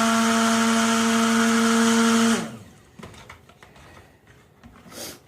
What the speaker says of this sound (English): So I'm going to stick blend this and bring it to trace.